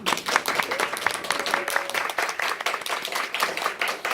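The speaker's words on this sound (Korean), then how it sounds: "여러분 자신을 위해서 박수 한번 좀 주시죠" Audience at a business presentation giving a round of applause, dense rapid clapping from a crowded room, sustained and fairly even for several seconds.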